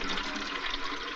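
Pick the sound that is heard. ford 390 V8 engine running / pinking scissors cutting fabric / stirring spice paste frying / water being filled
water being filled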